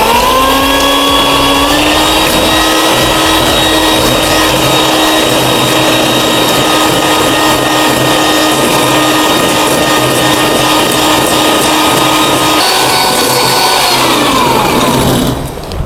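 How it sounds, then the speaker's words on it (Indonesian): An electric mixer whips cold non-dairy whipping cream with a loud, steady motor whine that rises slightly in pitch early on, holds for about fifteen seconds, then cuts off at the end. "Kita mixer hingga"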